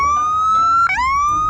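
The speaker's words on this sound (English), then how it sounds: "It's an actual cop siren." A loud police-style electronic siren blares from a loudspeaker mounted on an old Ford wrecker truck, a steady wailing tone that briefly yelps and dips before settling back to its high pitch, close and piercing.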